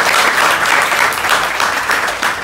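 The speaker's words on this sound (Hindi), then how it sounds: "चलिए, दोनों के लिए ज़ोरदार तालियां।" An audience at an acting workshop breaks into loud, dense, sustained applause for two actors, a continuous roar of many hands close by, with a little talk underneath.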